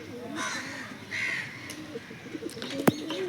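A white Mundo jiriya pigeon coos in a loft, giving a few soft throaty calls at close range amid faint background noise and a sharp click near the end.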